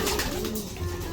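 Pigeons coo softly and continuously in a breeding loft with stock birds, a low repeated throaty purring close by with no talk.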